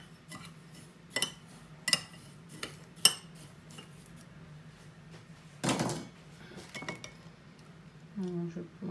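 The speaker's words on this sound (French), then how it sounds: "Je mélange la chapelure avec les grains de sésame." Breadcrumbs and sesame seeds being mixed by hand on a plate while chicken nuggets are prepared, giving light scattered clinks and taps of plate and cutlery with a few sharper knocks, near and fairly quiet.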